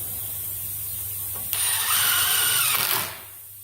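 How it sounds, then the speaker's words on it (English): Power drill running screws down through a wooden top board while assembling a horseshoeing stock: a single close, loud whirring burst of about one and a half seconds that winds down, with no talk. "And you run your screws down through."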